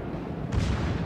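Continuous dense rumbling barrage of heavy naval gunfire from a cruiser in World of Warships, booming and unbroken, growing louder halfway through.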